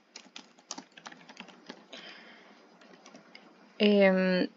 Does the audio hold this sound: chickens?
no